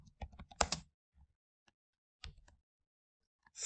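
Code is typed on a computer keyboard in short clusters of quick, crisp key clicks, separated by pauses, close and fairly quiet.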